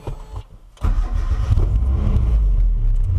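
After a brief quiet moment, a Mazda Miata engine turns over and fires, then runs with a steady low rumble close by, outdoors in the dark.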